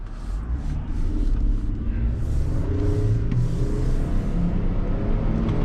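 A 2023 Toyota Tundra full-size pickup accelerates hard, its deep engine rumble and exhaust roar building and staying strong and close inside the cab, with a few faint clicks on top.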